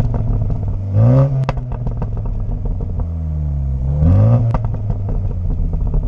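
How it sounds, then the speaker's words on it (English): A 2020 MINI JCW Countryman's engine and exhaust drone steadily, with two sharp rev rises around one and four seconds as the engine climbs, crackling lightly through the exhaust. "The exhaust now is starting to come alive too"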